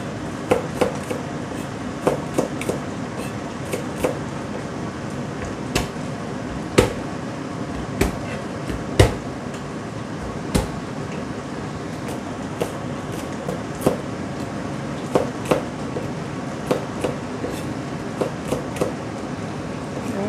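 A knife chopping chili peppers on a board, with irregular sharp knocks spread through a low, steady background rumble and no talk.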